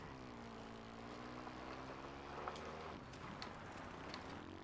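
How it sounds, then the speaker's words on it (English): Helicopter in the video game Ghost Recon Breakpoint, a faint, steady rotor and engine drone with a low harmonic hum that shifts pitch slightly, plus a few soft clicks, no talk. "Oh, there is a helicopter up here."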